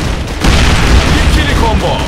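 Bomb blast in the video game District 187, a heavy booming burst with rumbling low end and crackling debris, loud and close, followed by scattered pops as it fades.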